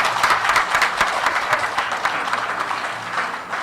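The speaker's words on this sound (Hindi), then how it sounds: "तालियां" An audience at a Hindi festival at Srinath College in Jamshedpur gives sustained, lively applause after a song, with many hands clapping densely and evenly, then easing off slightly toward the end.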